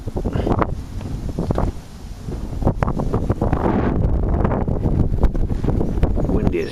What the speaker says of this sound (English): Windy as heck all of a sudden.